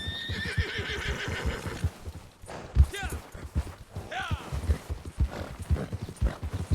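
Missouri Fox Trotter horses in snow in Red Dead Redemption 2, with steady hoof clip-clop throughout and a couple of sharp whinnies rising over it midway, close and fairly loud.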